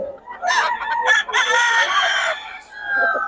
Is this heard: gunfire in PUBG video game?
no